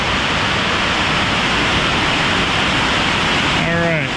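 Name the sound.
waterfall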